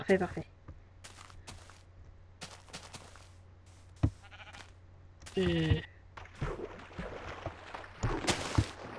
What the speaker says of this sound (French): Donc oh, un mouton.